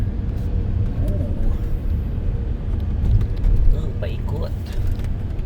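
Car driving along a road in Korea, a steady low engine and tyre rumble heard from inside the cabin, with a person talking over it.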